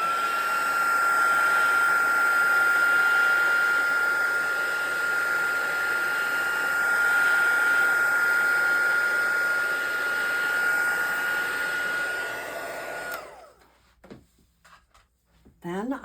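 Heat tool warming fabric to set it, a steady close whooshing blower drone with a faint high whine, running about thirteen seconds before shutting off, followed by a few soft handling sounds.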